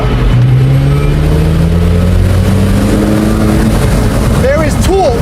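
A Porsche 918 Spyder hybrid supercar accelerates hard in sixth gear from about 50 mph, a loud continuous engine drone rising steadily in pitch under heavy wind noise, with a voice talking over it near the end.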